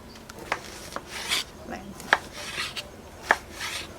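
A knife slices through a young, soft luffa sponge gourd, giving a few crisp cutting strokes and sharp taps against the board, spaced irregularly and heard close up in a quiet room.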